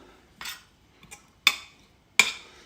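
A utensil clinks against a pan four separate times while pasta is stirred with vegan parmesan, crisp metallic taps close by with quiet gaps between.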